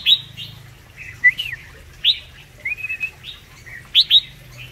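Small caged birds, with newly bought quails among them, chirp and tweet in short bright bursts over several seconds. The calls are close and clear against a low background murmur.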